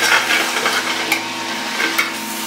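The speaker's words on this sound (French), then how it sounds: "ne pas oublier que vous avez quand même du chou qui cuit là" Braised red cabbage is stirred in a pan as it cooks, a soft continuous sizzle broken by a few light scraping strokes of the spoon.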